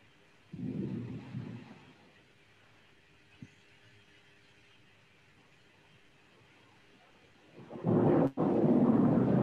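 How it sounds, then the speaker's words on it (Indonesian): A thunderstorm with rain: a loud broadband roar of rain and rumbling thunder swells, fades to a quiet hiss with one sharp crack, then returns loud and steady near the end. "Wah ini hujan petir mas."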